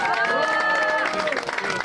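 A crowd at a People Power Party political gathering applauds, with lively clapping mixed with cheering and raised voices, loud and close throughout the short burst.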